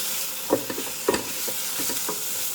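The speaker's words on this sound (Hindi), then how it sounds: "और इसमें मैं डालूंगी थोड़े से chilli flakes. And give it a mix." Vegetables with chilli flakes stirred in a hot pan: a steady close sizzle with a few distinct scraping strokes of the spatula, no voices.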